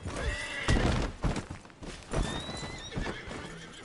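Galloping horse from the Red Dead Redemption 2 video game: hooves clip-clop in a rapid rhythm while the horse neighs and whinnies, close and moderately loud, with scattered thuds.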